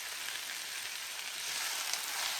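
Plantain pieces fry in hot oil over high heat, giving a steady, dense crackling sizzle that fills the clip and swells slightly louder toward the end, with no voices.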